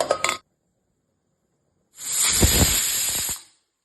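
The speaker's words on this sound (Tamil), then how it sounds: "2 விசில் வந்துடுச்சு, ஆஃப் பண்ணிடலாம்." A pressure cooker releases steam in short bursts while making mor kulambu, first a brief sharp hiss, then after a pause a longer, loud, rushing whistle lasting about a second and a half before stopping.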